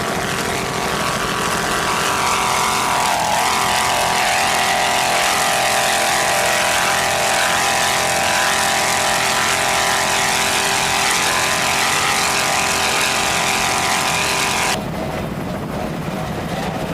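Twin Mercury 2.5 EFI outboards power a racing powerboat at an offshore grand prix, a loud continuous high-revving roar that holds steady throughout, then drops off abruptly near the end.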